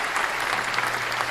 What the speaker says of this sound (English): I just have to continue to clap on her